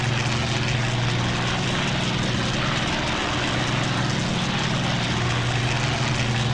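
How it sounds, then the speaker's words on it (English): Propeller fighter planes, enemy Bf 109s, flying in the Battle of Britain video game Combat Wings near the Dover coast, a steady loud continuous engine drone with heavy low hum throughout. "Intercept enemy planes near the Dover Coast Road."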